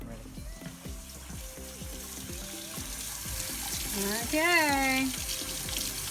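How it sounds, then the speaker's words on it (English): Tap water runs steadily into a sink while freshly pulled radishes are rinsed of garden soil, with a brief voice speaking over the splashing stream. "Rinsing off all that good soil."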